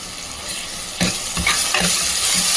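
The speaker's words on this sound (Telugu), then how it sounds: "అల్లం వెల్లుల్లి పేస్ట్ వేసినాక మాత్రం కొంచెం తిప్పుతూ ఉండాలి" Ginger garlic paste sizzles in hot oil in a pan for mutton bone soup, with a constant loud fry hiss and a few spoon scrapes as it is stirred.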